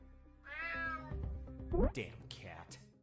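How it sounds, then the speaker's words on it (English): Cat meowing in the video game UnMetal, a loud drawn-out meow up close followed by shorter cries, with game sound effects around it. "Damn cat."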